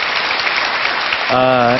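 Studio audience applause at a Korean lecture show, a steady patter of clapping that is joined near the end by a voice speaking over it.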